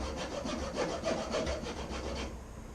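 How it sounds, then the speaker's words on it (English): A hand file rasps a flat spot onto the side of a fishing jig hook in steady, close back-and-forth strokes, with no talking. "So I'll sand that down with my file, hold the hook flat."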